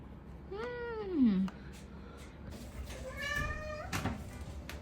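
A cat gives drawn-out, rising and falling meows and yowls at the start of a bath, two or three loud close calls with quiet gaps between.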